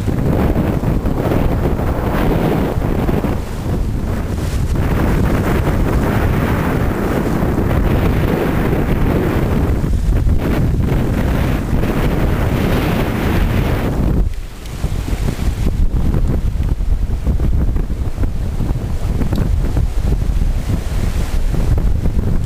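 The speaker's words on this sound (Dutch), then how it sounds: "Wind vlaagt naar 21 knopen" Strong gusty wind, around 21 knots, buffets a sailboat on the IJsselmeer, roaring loudly and continuously across the microphone with a brief lull partway through before the rush returns.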